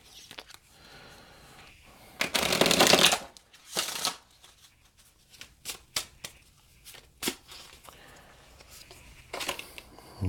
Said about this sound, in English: I want one more shuffle.